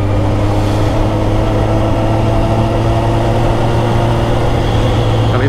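Suzuki GSX1000R motorcycle engine running steadily and loud throughout, a constant low droning hum with wind noise and no distinct separate revs, on a solo Sunday morning ride in Indonesia.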